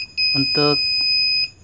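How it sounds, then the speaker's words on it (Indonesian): A universal car parking sensor kit sounds its warning beep, a steady high electronic tone held for over a second, loud and close, with someone talking over the start of it. "ini bunyi bipnya."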